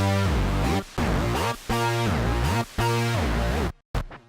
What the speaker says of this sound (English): So the entire bass hook actually sounds like this.